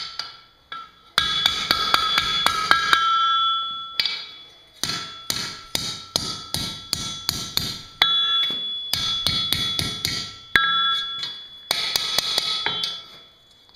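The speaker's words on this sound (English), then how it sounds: "Square it up with the anvil, using the side of the anvil." A blacksmith's hammer strikes hot iron on an anvil while forging a scroll, delivering quick bursts of ringing, metallic blows in uneven clusters separated by short pauses, loud and close.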